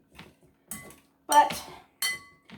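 An old-school metal hand masher working in a cooking pot, giving four irregular metallic clanks and scrapes against the pan, with near silence between strikes.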